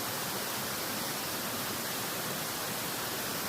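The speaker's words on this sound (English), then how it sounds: "During a jungle hike deep inside the Amazon jungle in Suriname, we came across this 200 feet tall waterfall." A 200-foot waterfall deep in the Amazon jungle of Suriname, heard in dry season as a soft, even broadband rush, steady and distant with no other sounds.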